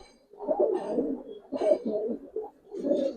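Two pigeons in a home loft, one an old clipped-feather bird, coo softly in low throaty bursts with a few short pauses, moderately near and alone with no talk.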